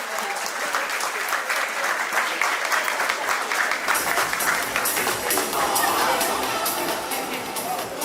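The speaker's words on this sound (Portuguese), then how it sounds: "un aplauso para ellos" A crowd at the Golden Bright 2024 awards ceremony applauds the award winners with dense, sustained clapping that stays loud and even for the full stretch, with no voices on top.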